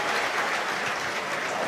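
Rugby crowd applauding a departing player at the end of the season, a steady wash of clapping and cheering that holds at an even level throughout, with no voices standing out.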